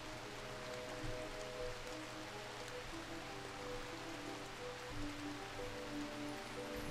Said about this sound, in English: boy, it's hard to see now that it's raining